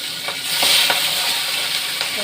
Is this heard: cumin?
yes